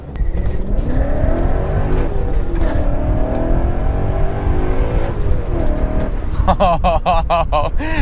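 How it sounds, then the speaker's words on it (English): A supercharged BMW E39 M5 fitted with an ESS VT560 kit, heard from inside as it drives, the engine droning loudly and rising in pitch through revs, with a burst of higher whine near the end. "So we're in the E39 M5."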